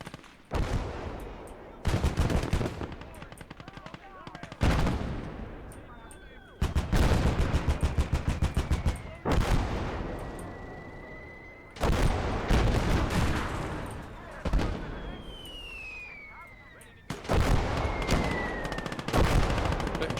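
Dense gunfire and artillery from the WWII strategy game Call to Arms: Gates of Hell: loud repeated bursts of machine-gun and rifle fire with heavy blasts, coming in waves over about twenty seconds.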